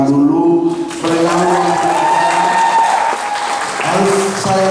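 Applause at the Indonesian Film Festival 2023 press conference, a loud burst of clapping from a room of media and guests, with a voice speaking over it.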